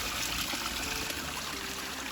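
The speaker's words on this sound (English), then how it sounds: "we found this nice little water source here" A small water source on the Appalachian Trail trickles and splashes steadily at close range, a continuous bright wash of running water with no voices.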